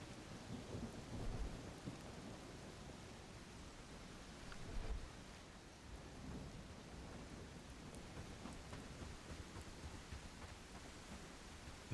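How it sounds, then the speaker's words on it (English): Steady rain pours in the medieval life sim Bellwright, with low rumbles of distant thunder rolling beneath the constant hiss of falling water, no voices present. "And of course it's raining the second day when we want to head back into town."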